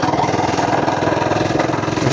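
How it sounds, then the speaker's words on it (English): An FRP GMB100 mini bike engine runs at a steady speed while riding, giving a loud, continuous buzzing drone with a rapid even pulse and no talk over it. "Engine is pretty sick, I gotta say."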